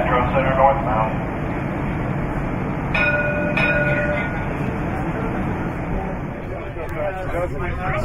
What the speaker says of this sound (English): Streetcar exiting Metro Center northbound.